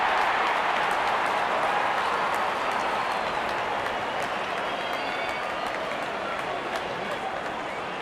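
A stadium crowd cheers and applauds in a cricket video game as the opening batsmen walk out, a dense, steady roar of clapping and voices that carries on unbroken.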